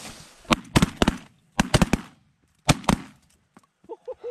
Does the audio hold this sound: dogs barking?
no